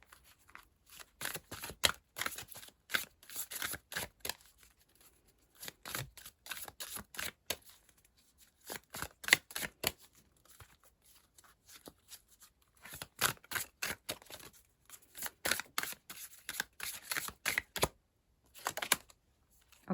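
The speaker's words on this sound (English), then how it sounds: "I'm just going to pull an elemental oracle card for you." Elemental oracle cards shuffled and pulled from a deck for a tarot-style reading, giving repeated bursts of crisp papery riffling and flicking with short pauses between, close and fairly quiet with no talking.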